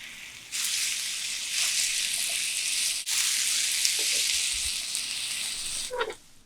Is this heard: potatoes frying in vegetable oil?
yes